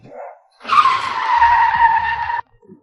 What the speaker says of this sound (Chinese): 一脚刹车，出租车死死卡在了实线后面